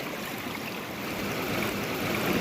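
River water rushing steadily through a riffle sluice set in the stream bed, a close, broad and continuous wash that swells slightly, with no voices.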